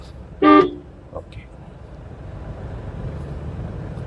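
One short, loud car horn toot rings out close by, followed by a faint brief beep and steady traffic rumble.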